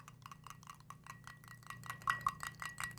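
A spoon stirring salt into an alcohol and water mixture, giving rapid repeated light clinks and scrapes against the container in a steady rhythm, fairly faint.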